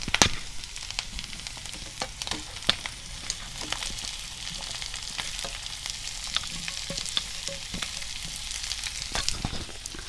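Onions sizzling in a pan for a prawn roast, a continuous soft fry with scattered sharp crackles and spatula clicks throughout, nearby and fairly quiet, no talking.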